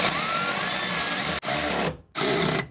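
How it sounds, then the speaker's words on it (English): A power drill or driver runs bolts into a Ford Bronco tail light in three close, loud bursts, the first long and steady, the next two shorter and separated by brief silences. "I'm now replacing the 8mm bolts on the side here."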